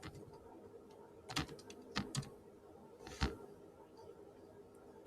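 Keys tapped on a computer keyboard while entering a Kali Linux command, a few quiet scattered clicks in small bursts against a hushed room.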